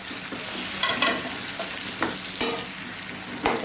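Lemons frying in oil in a pan for lemon pickle, a continuous close sizzle broken by several distinct stirring scrapes of a spoon against the pan.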